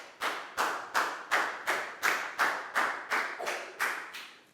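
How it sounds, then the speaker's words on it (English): A Year 4 classroom gives a pupil a round of applause as about eleven sharp, evenly spaced claps, close and fairly quiet, with no talking. "Big round of applause for Dan"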